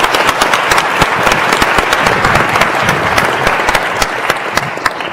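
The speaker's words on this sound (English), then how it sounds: "a round of applause for Dylan." Loud, close applause for Dylan at an event, with many sharp individual claps popping out of the dense crowd clapping throughout.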